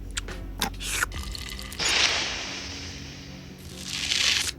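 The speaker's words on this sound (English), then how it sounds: "Waffle runoff." Waffle batter runs off a buttered waffle maker, with soft drips and sizzling hiss in a kitchen, including a couple of short bursts of frying sputter, fairly quiet and close.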